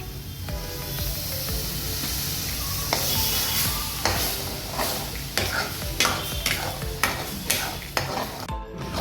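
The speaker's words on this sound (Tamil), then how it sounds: "பால் விடுறேன்." Milk hisses and sizzles in a hot pan of almond halwa while a spoon stirs steadily, with soft scraping strokes over a continuous frying hiss and no talking.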